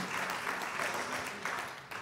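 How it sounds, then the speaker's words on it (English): A church congregation clapping in praise to God, a dense, even wash of applause at moderate distance, fairly soft and continuous. "a hand clap of praise"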